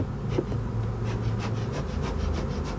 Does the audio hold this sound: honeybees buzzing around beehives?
yes